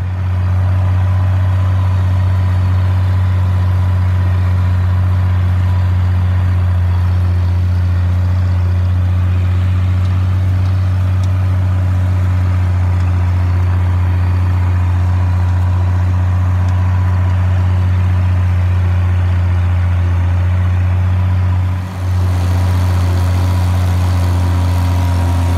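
A Farmall 560 tractor engine runs loud and steady at close range while discing a weedy field, a constant deep droning rumble with only a brief dip near the end.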